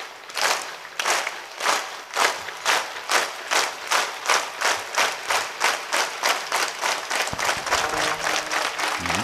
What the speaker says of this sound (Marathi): एक एक एक टाळी